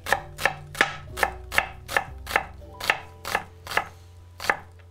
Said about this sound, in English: I'm gonna use a different knife to slice the onion